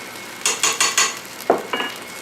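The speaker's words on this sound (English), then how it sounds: "Stir that up. Kind of want to get that butter a little bit melted." A spoon stirs a stick of butter melting in a pot for shepherd's pie soup, giving four quick scraping strokes followed by two more after a short pause, close and fairly loud.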